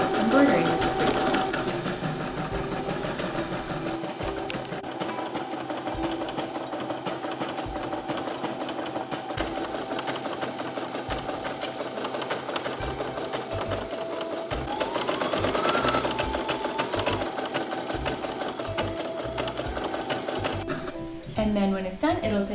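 Brother SE2000 embroidery machine stitching a design on a sweat set, a steady rapid mechanical chatter with a faint tonal whine running throughout, with a person talking over it.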